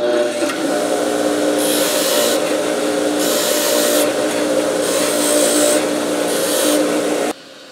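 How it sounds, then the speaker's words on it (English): A Craftsman bench grinder runs with a steady loud whine and rumble, with repeated bursts of harsh grinding hiss as a metal key is pressed against the wheel. "The Craftsman bench grinder."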